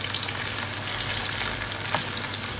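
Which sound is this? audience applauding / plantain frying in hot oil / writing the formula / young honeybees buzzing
plantain frying in hot oil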